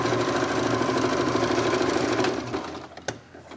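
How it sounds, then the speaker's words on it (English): A sewing machine stitching down ribbons, a steady, fast mechanical whir running close and loud for about two seconds before slowing and stopping with a final click. "I gotta sew down these ribbons"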